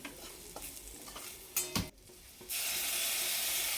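Curry leaves dropped into hot oil with onion, garlic and masala for a green bean bhaji, a few stirring clatters first, then a sudden loud, steady sizzle that continues to the end.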